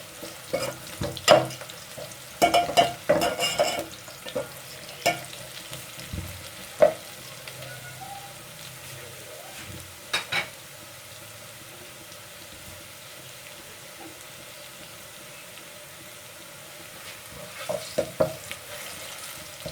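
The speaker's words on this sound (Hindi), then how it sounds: "प्याज जो है वो ब्राउन होना शुरू हो गई है।" Onions browning in a pan for aloo matar pulao give a soft sizzle broken by scattered bursts of stirring and scraping, with a long quieter stretch in the middle and no speech.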